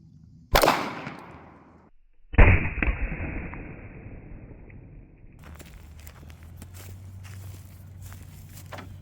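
A 9mm Federal Hydrashok round fired into a stack of boards: one sharp, loud report with a quick impact crack right after, followed by a lingering ringing decay and faint shuffling noise.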